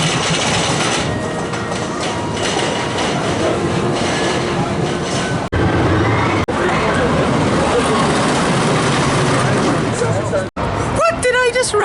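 Wodan, a wooden roller coaster at Europa Park, roaring loudly along its track with a constant rumbling clatter and rattling, riders' voices and shouts mixed in, abrupt brief drop-outs near the end.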